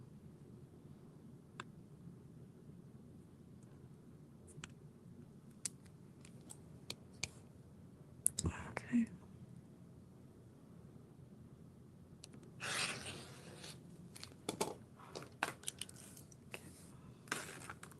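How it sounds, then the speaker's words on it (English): Faint, sporadic scissor snips cutting fabric for a sewing pattern's zipper panel in a quiet room, with a brief burst of louder cutting and a short spoken word. "I'm cutting the zipper panel."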